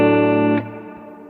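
A music beat with heavy reverb and effects processing, a dense sustained chord that cuts off sharply and leaves a fading reverberant tail.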